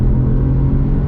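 A 2020 Jaguar XF with a four-cylinder engine accelerating: a steady, droning engine rumble with a strong low hum, heard from inside the car for about a second without talk.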